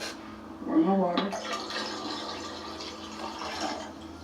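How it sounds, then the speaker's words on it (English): Water is poured into a pot of chicken stock with onion soup mix, a steady splashing stream after a brief gurgling start, with a voice talking over it. "And I'm gonna add water to this. Pour my water."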